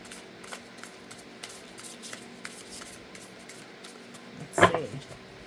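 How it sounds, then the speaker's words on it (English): Alchemy oracle cards being shuffled by hand, a soft papery riffle with a brief louder burst of card flutter near the end over a quiet room background. "I'm just going to shuffle these a little bit"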